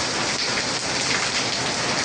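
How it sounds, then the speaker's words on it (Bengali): Very heavy rain pours down under a dark sky, a dense, loud and unbroken hiss of drops striking surfaces close by, with no voices. "প্রচুর জোরে বৃষ্টি"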